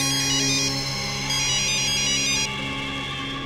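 A phone rings after a call is placed in a Bhojpuri movie, playing an electronic ringtone melody of bright repeating tones, loud and close, with no talk over it.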